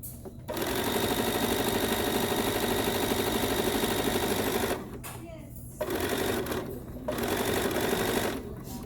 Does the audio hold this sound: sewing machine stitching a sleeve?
yes